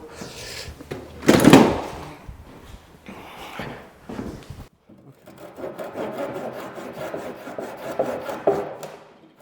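Handsaw cutting wood while fitting a kitchen worktop, with a rasping burst early on, then a steady run of close back-and-forth strokes over several seconds.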